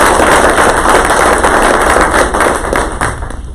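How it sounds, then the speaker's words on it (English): A loud, sustained round of applause fills an indoor public affairs awards ceremony hall, dense clapping from a large audience that gradually thins toward the end. "let's give them one more big round of applause"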